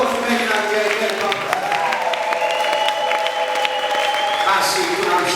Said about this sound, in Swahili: Piga makofi mengi na vigelegele